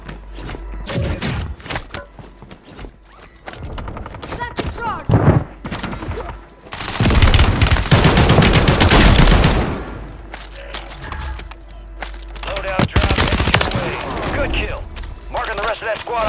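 Rapid bursts of automatic gunfire and scattered single shots in the shooter game Call of Duty Warzone 3, loud and close, with a long sustained volley midway, mixed with radio voices and in-game announcements.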